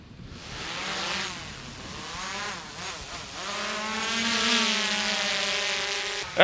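A DJI Mavic 3T thermal imaging drone flies overhead, its whining propellers rising and shifting in pitch as it passes, steady and fairly loud with no talk.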